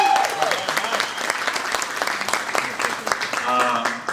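Audience applause at a community recognition event, a dense, steady wash of clapping from many hands filling the room close by, with voices mixed in under the clapping throughout.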